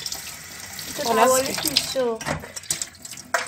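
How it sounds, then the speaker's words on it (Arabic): Tap water runs into a kitchen sink while raw crab is rinsed, a close splashing flow with brief clinks, and someone speaks over it partway through. "هشطفها كمان شطفه وخلاص"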